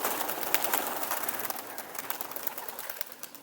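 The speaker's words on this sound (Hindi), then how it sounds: "अभी आएंगे कबूतर भाई जी" Pigeons coo close by, with soft repeated low calls over a faint, steady background.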